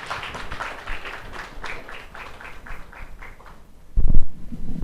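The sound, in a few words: audience applause at summit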